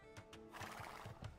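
A scout cavalry horse in a strategy video game gives a loud, close whinny, with a few sharp hoof clops before and after it.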